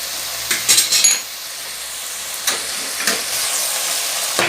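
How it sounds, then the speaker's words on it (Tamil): Tomatoes for a tender pumpkin kuzhambu sauté in a pan with a steady close sizzle, broken by several clattering scrapes of a spoon against the metal. "இந்த தக்காளி வதங்கிறதுக்கு ஒரு 5-6 நிமிஷம் வரைக்கும் நம்ம இதை டக்குன்னு போட்டு மூடி வைக்கலாம்"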